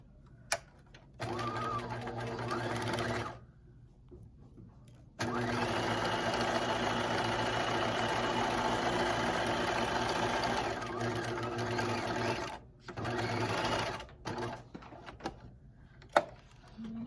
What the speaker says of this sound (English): let's stitch the other shoulder seam